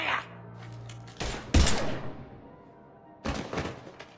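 Gunfire bursts and heavy impacts from the Mass Effect 3 video game: a few sharp, loud cracking shots separated by short pauses, with a faint low hum between them and no talk over the shots.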